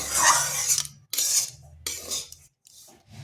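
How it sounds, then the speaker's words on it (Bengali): Dry semolina being roasted over medium heat and stirred in a pan, a few short scraping strokes of a spoon against the metal with brief pauses between them, close and fairly quiet. "মিডিয়াম আঁচে রেখে সুজিটা একটু ভেজে নিচ্ছি, যাতে সুজির কাঁচা গন্ধটাও চলে যায়।"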